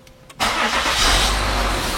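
A Peugeot 407 V6 fires up after a brief quiet moment and then runs steadily, close by and loud, with a rough, broadband engine rumble.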